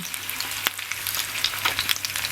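Fish sizzles and crackles steadily in hot oil in a pan, a close, continuous frying hiss with a few sharper pops and spatters.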